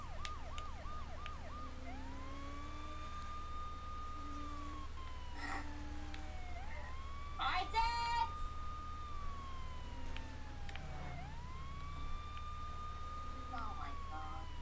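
Wailing police car sirens in the video game Saints Row: The Third sweep up and down repeatedly alongside engine hum, with a voice talking over them.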